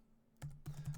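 Keys on a computer keyboard are typed quickly in a short burst of close, soft clicks after a brief quiet pause, with no talking.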